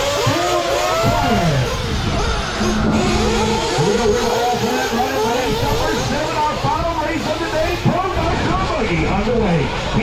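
Several 1/8 scale nitro RC buggies with OS engines race around an Orlando track, their high-pitched engines screaming and rising and falling continuously, with an announcer talking over the dense, loud racing.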